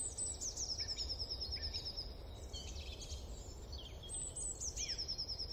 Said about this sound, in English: allow a bit more space to hear the birdsong and appreciate our natural surroundings